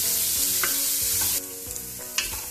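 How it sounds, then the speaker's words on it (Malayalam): Sliced onions are stirred as they roast and sizzle in hot oil for a raw jackfruit biryani, with a continuous close sizzle under repeated scraping strokes of the spoon in the pan. "നമുക്ക് നന്നായിട്ട് ഇത് എണ്ണയിൽ നല്ല രീതിയിൽ റോസ്റ്റ് ചെയ്തെടുക്കുക."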